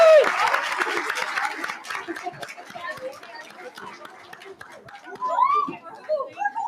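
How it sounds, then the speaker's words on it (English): An audience at a symposium's afternoon session claps, a scattered round of applause that fades out amid chatter, children's voices and people moving around the room. "One more applause for them,"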